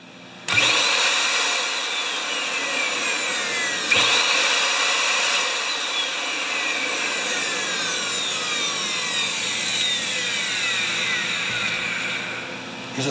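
A rewired vacuum cleaner motor that has stopped working normally switches on with a sudden whine, then runs steadily with a loud rushing roar and a slight surge midway before cutting off.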